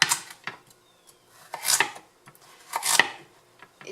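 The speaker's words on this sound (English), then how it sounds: "Cut it in about that much, about an inch." Knife slicing shiitake mushrooms into roughly one-inch pieces on a cutting board for beef stew, a handful of separate crisp chopping strokes, close and fairly quiet, with no one talking.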